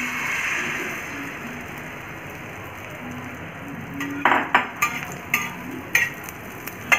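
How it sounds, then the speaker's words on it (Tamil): Beaten egg for egg kalakki goes onto a smoking-hot tawa, starting with a soft steady sizzle, followed by sharp metallic clinks and scrapes of a spatula against the pan in the second half. "ஸோ இந்த ஸ்டேஜில் நீங்கள் கலக்கி வச்சிருக்க முட்டையை நீங்கள் ஊற்றிக்கோங்க."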